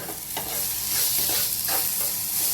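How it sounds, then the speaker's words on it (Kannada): Onions frying in a pan with constant hiss and sizzle, stirred with a few soft scraping strokes, close and steady with no talking, a dish from a North Karnataka thali. "ನೋಡಿ ಉಳ್ಳಿಗಡ್ಡಿ ಫ್ರೈ ಆಗತ್ತೆ"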